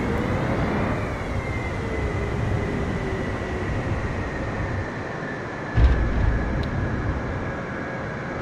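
Airplane engine drone in a flight simulator video game during a stall, a loud continuous rumble with a steady whine that dips slightly, then a brief thump near the end, no talking.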